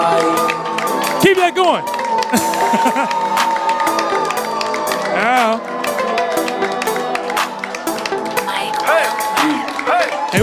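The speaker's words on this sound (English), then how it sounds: "They want that extended applause" Cheering and clapping greet a hip-hop duo at a lounge event, with crowd whoops, scattered claps and shouts mixed with a voice over music, loud and lively throughout.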